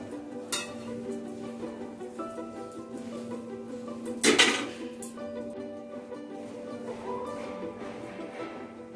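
Raw mustard oil is stirred into chilli pickle masala for Kashmiri red chilli pickle, with soft scraping and light clinks of a spoon against a bowl and one sharper clatter midway.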